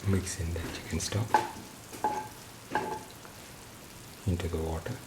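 A spoon stirs chicken stock into water in a pan on the stove, giving soft scraping and sloshing strokes in several separate bursts over a quiet, faint sizzle.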